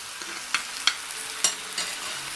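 Red wine reducing in a frying pan around a steak bubbles and sizzles steadily, with a few sharp pops and spatters close by.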